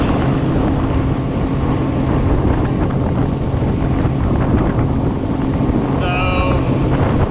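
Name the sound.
Tohatsu 30hp outboard motor running a Gheenoe LT25 boat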